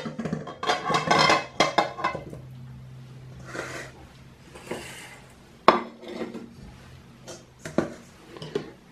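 Raw chicken wings tipped into a bowl already holding garlic, pepper, paprika and turmeric, with a loud clatter of pieces and dish at the start, then quieter scattered knocks and handling sounds.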